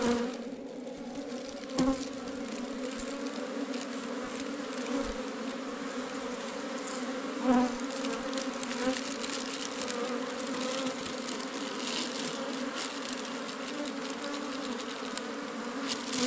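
Honey bees swarm around a large wild hive, making a steady, dense buzzing drone with occasional louder bees passing close by, and no voices.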